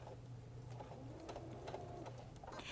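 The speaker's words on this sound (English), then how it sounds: "I'm just simply going to take a few stitches forward" A Baby Lock sewing machine running a few forward stitches, a faint, quick mechanical whir and patter that stays low and steady throughout, with no talk.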